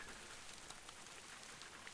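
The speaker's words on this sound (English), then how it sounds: "We've got the rain going" Steady rain ambience in a VRChat virtual world, a soft continuous hiss of falling drops with faint scattered patters, even and unbroken throughout, no voices.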